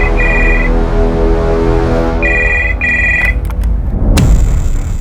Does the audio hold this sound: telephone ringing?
yes